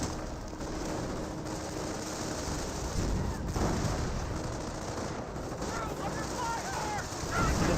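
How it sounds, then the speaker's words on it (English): A .30 cal machine gun in Company of Heroes firing at a German Grenadier, a steady distant rattle of automatic fire blended with battle noise, running under a commentator's continuous talk. "30 cal firing away, trying to get some damage there on this Grenadier."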